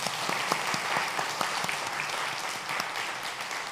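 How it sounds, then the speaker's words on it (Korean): Church congregation giving applause of encouragement during a Korean sermon, a sustained crowd of clapping hands with crisp individual claps standing out, even and moderately distant. "우리 한번 이들을 위하여서 한번 격려의 박수 한번 하도록"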